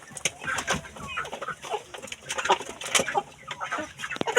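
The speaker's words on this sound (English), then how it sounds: "the broilers are eating this" Broiler chickens eating cassava peel feed, a flock clucking and pecking close by with busy overlapping clucks and scratchy pecking sounds.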